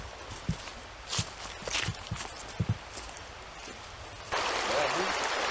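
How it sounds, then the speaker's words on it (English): Footsteps crunch along a woodland path near Spider Gates Cemetery, then a river's steady rushing flow rises and fills the background, close and continuous. "I hear a river."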